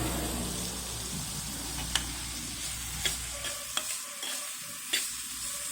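Chicken cutlets frying in a hot pan, a steady sizzle that thins out partway through, broken by a few sharp clinks and taps of a utensil, with no voices.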